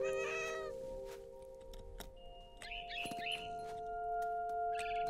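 Cat in the video game What Remains of Edith Finch gives a short meow near the start, followed by sustained electronic tones and a few faint chirps and clicks, quiet overall with no speech.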